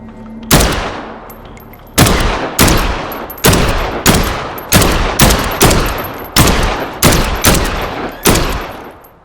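Loud, close gunfire from the guns in the video game Dead Island 2: about eleven sharp shots with ringing tails, spaced irregularly with no pauses between them.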